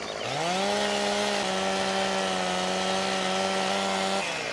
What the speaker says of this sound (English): There's something very satisfying about the sound of a chainsaw.